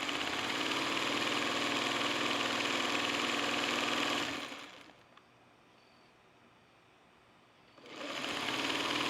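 A sewing machine runs steadily at close range, a continuous mechanical whir with a busy chatter, then stops for about three seconds before starting up again at full speed. It is being used to sew 16-patch blocks from a jelly roll.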